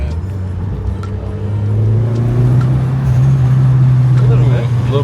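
A turbocharged Mitsubishi Evo engine hums with a steady low drone that swells slightly, with faint flutter-like chatter over the top, while voices talk intermittently nearby.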